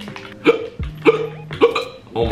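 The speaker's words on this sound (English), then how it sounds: "I have the fucking hiccups" Repeated hiccups come about every half second, four sharp involuntary gulps close to the mic, with a voice faintly in the background.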